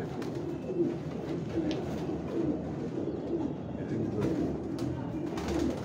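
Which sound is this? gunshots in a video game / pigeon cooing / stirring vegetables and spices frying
pigeon cooing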